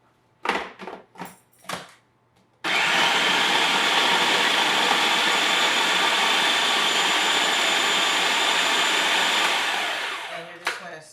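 A countertop blender grinding basil pesto with olive oil starts after a few light knocks and clicks, then roars into a loud, steady whirring drone for about seven seconds before winding down.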